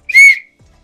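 A single short, shrill whistle blast sounds up close, piercing and bright, then cuts off into silence.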